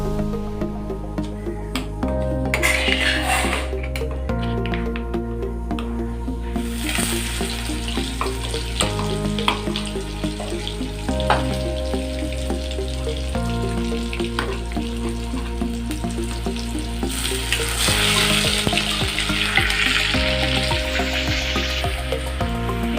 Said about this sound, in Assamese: আৰু এতিয়া মই এই পেষ্টখিনি কেৰাহীটোত দি দিম।